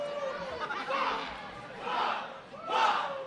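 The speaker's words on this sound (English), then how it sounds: "He's got the entire Starland Ballroom crowd chanting Bah!" A wrestling crowd at the Starland Ballroom chants in swelling waves, three loud rising bursts of massed voices over a constant murmur of chatter.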